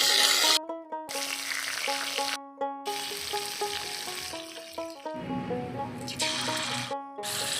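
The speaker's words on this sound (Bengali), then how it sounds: "এই মাছটা ভাজতে খুব আস্তে আস্তে ভাজতে হয়," Fish frying gently in a pan gives a steady, soft sizzle that runs through the clip beneath background music with a few brief pauses.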